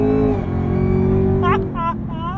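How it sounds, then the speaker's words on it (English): A supercharged V8 Chevrolet Camaro ZL1 with a 10-speed automatic and aftermarket Corsa exhaust launching hard in sport mode: a loud, steady engine drone with a rising tonal whine, broken near the end by short voiced sounds. "The supercharger whine."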